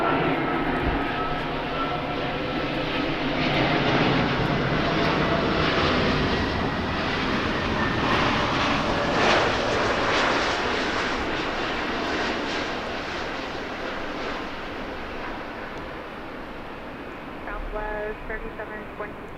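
An Alaska airliner on approach to land on runway 24 right at Los Angeles International Airport gives a loud, sustained engine roar that slowly fades, and a brief radio voice comes in near the end.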